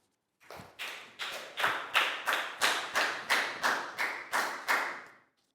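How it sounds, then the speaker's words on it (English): A classroom of Year 4 students claps together in a rhythmic round of applause, about eleven even, evenly spaced beats that swell and fade, close and clear with no talk over it. "Big round of applause for Pak Bung"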